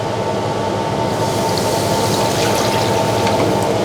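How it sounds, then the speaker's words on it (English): Water pours steadily into a pot on the stove for Thai meatball sauce, a continuous close rushing splash with no talk over it. "You put 800 gram of water,"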